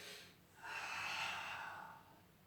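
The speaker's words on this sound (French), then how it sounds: "Allez, une respiration rythmée." A single long, breathy exhale through the nose during a Pilates exercise, close and fairly soft, rising quickly and fading out over about a second and a half.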